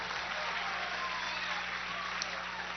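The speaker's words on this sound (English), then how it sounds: "How about a big round of applause for all the newlywed couples out there?" A studio audience at a love-and-marriage game show applauds newlywed couples, a steady, even wash of many hands clapping throughout, moderately loud with no talk over it.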